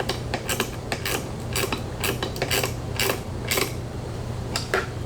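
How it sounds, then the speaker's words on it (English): Metal wrenches clicking and ratcheting against each other while tightening a part on a Ford Bronco, a string of sharp, close metallic ticks and clanks in an irregular rhythm, with no voices. "I've got my 2 wrenches to tighten this portion up"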